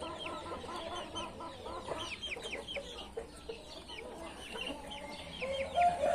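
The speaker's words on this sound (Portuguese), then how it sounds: "Aquela galinha prata." A silver hen clucks among other backyard chickens, her soft repeated calls mixed with scattered chirps and squawks from the flock at close to moderate range, with steady outdoor background noise throughout.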